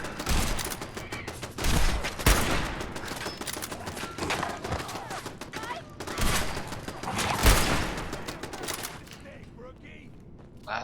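Bursts of automatic turret gunfire in Fallout 4, rapid loud volleys in several clusters with brief lulls, a voice talking between the shots.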